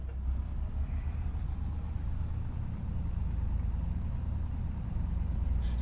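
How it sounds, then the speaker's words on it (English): International truck engine in the video game Farming Simulator 25, a steady low diesel drone and rumble with a faint rising whine above it, continuous and close, with no talking. "I think it's the International truck sounds from that one and put it on this guy"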